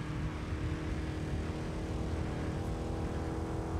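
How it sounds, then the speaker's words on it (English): Aircraft engine drone from a chopper in the video game Battlefield Hardline, a steady loud whir with constant low rumble throughout, no speech. "The chopper is to our left."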